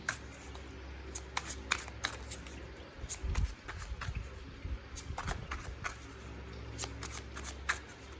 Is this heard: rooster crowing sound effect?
no